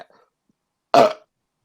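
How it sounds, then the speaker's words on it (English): A single loud, close burp lasting a fraction of a second after a near-silent pause, short and throaty with an abrupt end. "Those burps fucking suck."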